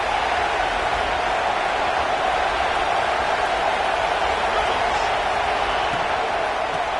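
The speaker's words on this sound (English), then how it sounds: "This crowd bringing the energy and noise early" Football stadium crowd noise in a video game, a loud, constant roar of a large crowd that holds steady throughout with no breaks.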